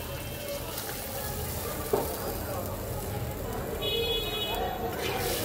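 Water is poured into a pan of shrimp curry with crab claws and potatoes, hissing over a steady loud sizzle with a brief splash near the start.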